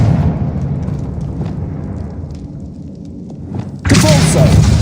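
A Confringo fire spell explodes in the Hogwarts Legacy video game, a low rumbling blast that swells and then cuts into a sudden bright burst near the end, loud and close.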